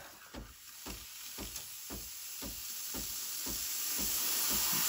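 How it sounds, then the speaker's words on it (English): Steam wand on a Breville Barista Express BES870 espresso machine hissing steadily, building in strength, with faint rhythmic ticking pulses beneath the rising hiss. "When you hear that, that's when the machine starts producing steam."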